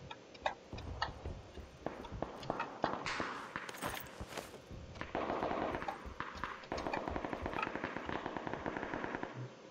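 Gunfire in the battle royale game PUBG, coming from outside while the player loots; rapid bursts and scattered single shots crackle at a distance, irregular and fairly faint, with looting clicks nearby.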